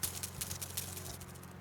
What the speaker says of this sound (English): it's called yellow rattle because when it dries out it sounds like this.